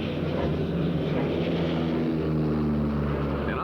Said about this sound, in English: observation aircraft with an airborne forward controller has been working with 2 Phantom jets under the rapidly lowering cloud cover